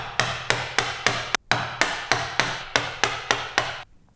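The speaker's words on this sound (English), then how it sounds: "And whack that material out." Steady, evenly spaced sharp whacks of a mallet driving a chisel to knock out waste wood when cutting a practice joint, about ten loud close strikes in a row.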